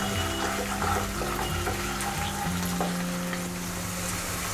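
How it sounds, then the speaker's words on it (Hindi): Ginger garlic paste fries with browned onions in a pan for a restaurant-style matar mushroom curry, a loud steady sizzle with scraping stirs and clinks of a spoon, close up and without talk. "अब इसमें हम अदरक और लहसुन का पेस्ट डालेंगे,"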